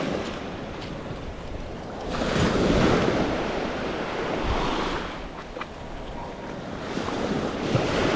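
Ocean surf rolling onto a beach at Pass a Grille as the tide comes in, a steady broadband wash with swells building and receding, mixed with wind noise, no voices.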